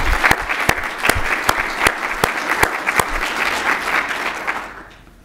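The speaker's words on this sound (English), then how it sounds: "So please join me in another round of applause for our new council members" At a city's State of the City address, an audience applauds new council members with a full crowd clapping, several loud individual claps standing out, before the applause fades away at the end.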